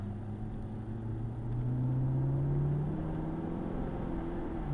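A 2012 Maserati GranTurismo convertible engine accelerates hard, its close, loud tone climbing steadily in pitch, with no speech over it.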